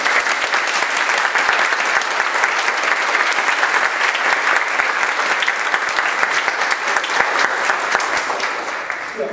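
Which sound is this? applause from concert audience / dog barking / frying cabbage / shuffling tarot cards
applause from concert audience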